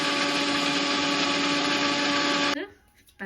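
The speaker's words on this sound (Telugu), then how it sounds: "so mixie పట్టేసుకున్నాను onion," A kitchen mixie grinds onion and green chillies into paste, a loud, steady high-pitched whine that holds for about two and a half seconds and then cuts off, spinning down into quiet.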